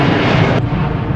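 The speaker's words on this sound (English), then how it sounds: "Hold on, there's a plane." Airplane passing overhead near an airport, a steady broad roar with no talk, heard outdoors beside a 2022 Ram Power Wagon.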